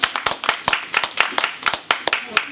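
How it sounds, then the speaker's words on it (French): Scattered hand claps from a small audience at a bar opening, about a dozen sharp separate claps in uneven rhythm, close and fairly loud. "Ziggy Mag, il faut l'applaudir s'il vous plaît."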